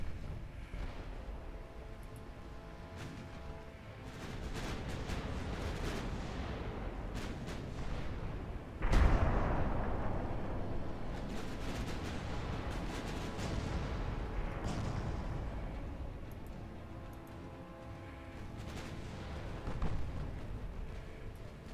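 Warship secondary guns fire in the naval battle game Ultimate Admiral Dreadnoughts. Loud, overlapping booming salvos roll over a continuous low rumble, with one sharp, heavy blast standing out near the middle.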